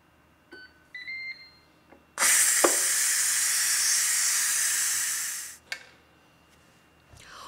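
Electronic beeps from an electric pressure cooker, then a loud, steady steam hiss from the immediate pressure release that lasts about three seconds before tapering off, followed by a faint click.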